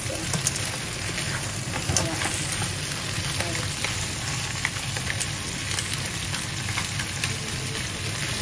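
Crabs stir-frying in a pan give a steady, close crackling sizzle with scattered sharp pops throughout, and no one speaks.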